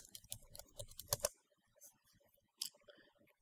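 Keystrokes on a computer keyboard as a name is typed into a game SDK editor, a quick burst of clicky taps up front, then sparser scattered presses, fairly quiet and close.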